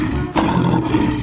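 A lion roars in a 3D animal slide game, one loud, close, deep growling roar that rises sharply and holds for about a second.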